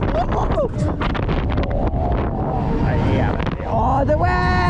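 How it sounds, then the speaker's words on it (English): Strong wind rushes across the microphone on a funfair ride at the Thionville autumn fair, a loud steady roar throughout, with excited voices calling out over it. "Oh, the wind!"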